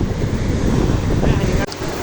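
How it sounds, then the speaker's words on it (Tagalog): Rough, roaring surf crashes continuously with heavy wind buffeting the microphone, loud and close, with a brief dropout near the end. "Kasi malakas ang alon."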